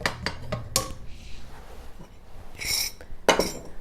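Serving spoon clinks and scrapes against a baking dish of scalloped cabbage, several sharp metallic and ceramic knocks in irregular bursts, close and fairly loud with no talking.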